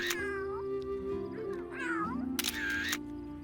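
Several cats meow in The Sims 3, a run of close, clear mews and drawn-out calls with a brief camera-click-like sound in between.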